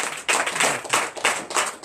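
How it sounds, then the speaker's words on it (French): Rhythmic clapping from a church congregation acclaiming Jesus, loud even bursts of hands striking together in a regular pulse, close and without speech. "Donnez l'acclamation à Jésus."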